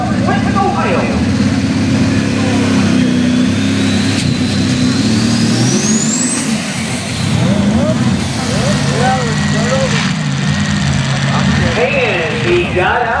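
A super stock pulling tractor with a Cummins V8 alcohol engine roars at a tractor pull, its loud revving engine rising and sustained across the run with shifting pitch, under a commentator's voice.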